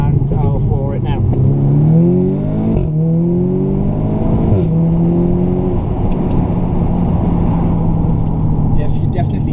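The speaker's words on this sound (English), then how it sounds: "drop the gear, so we're in first gear coming up to a 60 road. And I'll floor it now." A 2015 VW Golf R Mk7 or 2017 facelift Audi S3 8V accelerating hard at full throttle in first gear in manual mode, a loud, close engine note rising steadily in pitch through the run, with a person speaking over it.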